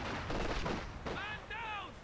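Russian sniper gunfire cracks out in the Company of Heroes 2 video game, with sharp loud shots packed into the first second, followed by shouted voices.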